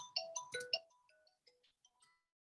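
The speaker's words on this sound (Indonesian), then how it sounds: "Maaf, bentar ada telepon." A phone rings for an incoming call with a short, bright melodic ringtone phrase, several quick tones that fade into softer trailing notes, heard alone and fairly quiet.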